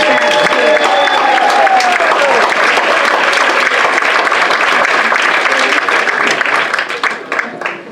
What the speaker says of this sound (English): I want you all to give a big round of applause for my two favorite men.